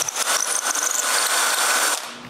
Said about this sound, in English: After drilling a hole into it